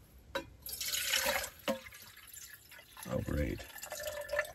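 Water splashes and drips from a partly frozen water bottle at a winter camp on the Iditarod Trail, a few short liquid spurts close by, with a person speaking briefly over them.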